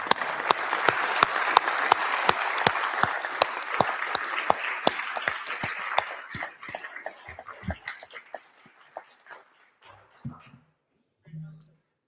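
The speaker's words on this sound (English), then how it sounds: "Please give him applause." Loud applause from a crowd in the South Dakota House chamber with sharp individual claps, sustained for several seconds before thinning out and fading to scattered claps and murmurs.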